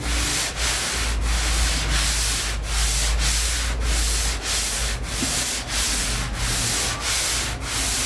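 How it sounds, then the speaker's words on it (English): Hand sanding of SPI epoxy primer with a flexible sanding block, a steady rhythmic scrubbing of back-and-forth strokes, close and even, with no talking. "Boy, this SPI epoxy is nice when it comes to sanding."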